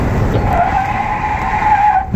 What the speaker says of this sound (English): Can you jab on those brakes for me a little bit?